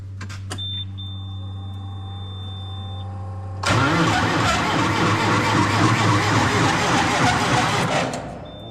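A steady whine and hum, then a farm forklift engine cranks in winter cold and catches, settling into a loud, rough, uneven idle close by before cutting off.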